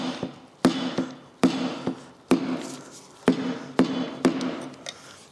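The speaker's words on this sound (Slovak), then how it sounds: "Ja si rád pomáham gumovým kladivom" A rubber mallet knocks interior trim loose on a 2016 Subaru Outback 2.0D, giving about eight sharp, close taps at an uneven rhythm, each with a brief hollow ring.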